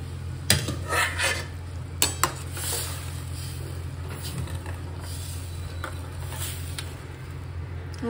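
Dal fry being stirred in a pot over low heat: a spoon scrapes and clinks against the metal in a few sharp knocks over a soft, continuous simmering sizzle, with no voices.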